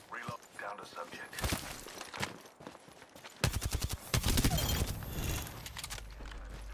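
Gunfire in a fast-paced shooter video game, scattered shots early giving way to dense rapid bursts in the second half, with a player talking over parts of it.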